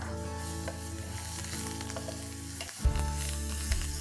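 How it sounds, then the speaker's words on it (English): Curry leaves sizzle in hot oil in a pot, a loud continuous crackling fry with a sharp burst partway through as more hits the oil, close and alone. "Now to this, I'm going to add some curry leaves."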